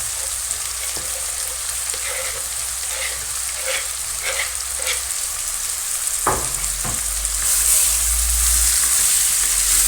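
An onion-sprout curry with chopped tomato fries in a pan, giving a continuous loud sizzle with a few clinks of a stirring spoon and a brief knock, up close and with no talking.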